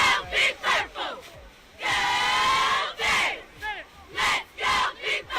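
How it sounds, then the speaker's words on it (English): Football crowd at a Miles College Golden Bears game against Morehouse chants in rhythmic bursts of massed voices, loud and close, with a sustained roaring cheer in the middle. "And you hear, let's go Big Purple, go Bears"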